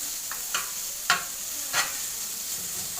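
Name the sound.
bacon frying in a pan without oil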